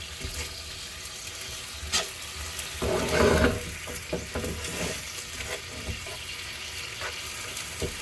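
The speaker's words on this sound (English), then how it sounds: "leave the onions with the sauce to saute" Onions sautéing in Filipino bistec sauce make a faint, steady sizzle with scattered small clicks and a brief louder bubbling burst partway through, heard alone.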